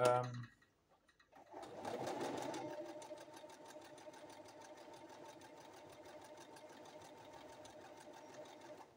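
A sewing machine runs at a steady rapid pace stitching buttonholes in chocolate brown cloth, a close even mechanical whirr with rhythmic needle ticks. A brief faint sound comes first, followed by a short hush before the stitching begins.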